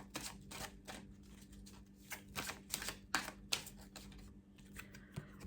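Oracle cards are handled and shuffled close up in a quiet room, giving soft, quick flicks and light slaps in uneven bursts with a few sharper taps.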